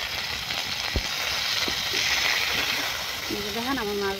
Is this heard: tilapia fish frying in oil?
yes